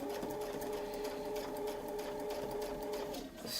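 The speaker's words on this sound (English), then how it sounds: "Reference line in place, and we're just going to sew." A sewing machine steadily stitches a quilted wreath pattern guided by a Westalee ruler template, its even, continuous motor whir running loud and close without pause for the whole stretch.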